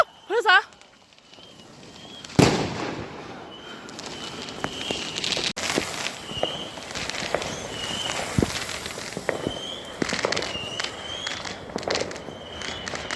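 Bonfire Night fireworks burst along a wet residential street, a loud bang followed by scattered crackling pops and sharp reports at irregular intervals, with footsteps and people's voices mixed in throughout.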